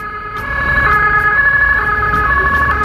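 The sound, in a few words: ambulance siren passing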